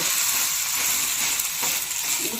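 Dosa batter sizzling and frying on a hot pan, a constant close, loud crackling hiss with no talk.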